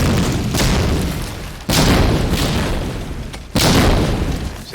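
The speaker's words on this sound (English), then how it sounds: "Inko with the nade now." Grenade blasts in Medal of Honor Allied Assault multiplayer, three loud booming explosions a couple of seconds apart, each a sharp burst trailing into a long rumbling decay.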